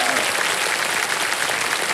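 Sustained applause from a studio audience on the Hindi quiz show Kaun Banega Crorepati after a contestant wins a big prize, a dense steady clatter of clapping filling the hall at an even, loud level throughout.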